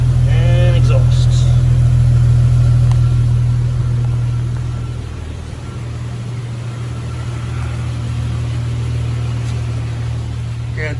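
A running Jeep exhaust with a new exhaust manifold rumbles steadily with a deep low drone, loud and close, easing slightly in level partway through.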